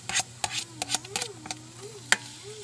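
Jackfruit is stirred in a cooking pot, with a string of sharp scraping knocks at an irregular rhythm over a low steady hum, close up and alone.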